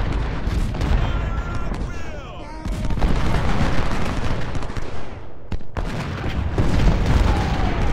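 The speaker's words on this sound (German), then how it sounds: "So, Kanonen schnell auf die da." Cannon fire in the Ultimate General: Civil War video game, repeated booming shots over a dense battle din, with a voice briefly talking in between.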